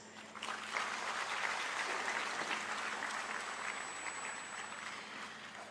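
Steady applause from an audience at an achiever awards ceremony, honouring the evening's award winners, sustained and fairly even throughout without speech.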